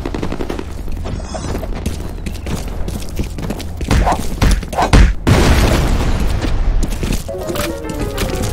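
A grenade blast in the F.E.A.R. combat shooter, a loud boom amid dense gunfire and crackling battle noise, close and sustained with a sharp burst near the middle.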